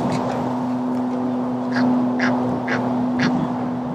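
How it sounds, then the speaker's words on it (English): An Egyptian goose calls beside a summer carp fishing lake, with a short run of harsh, evenly spaced honking notes over a constant low drone and background noise. "Egyptian goose."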